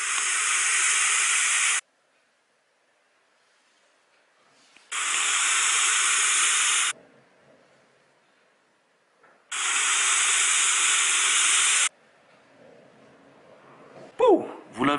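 Three long, loud, airy hissing draws on an iJoy Combo RDTA 2 atomizer with its airflow fully open, each lasting about two seconds with quiet pauses between, then a brief rustle at the end.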